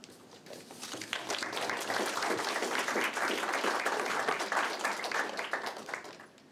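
An audience breaks into sustained applause to welcome student presenters who worked for nonprofits in developing countries, dense clapping swelling after the first second and holding steady throughout.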